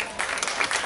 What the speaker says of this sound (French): Applaudissez-les, c'est superbe.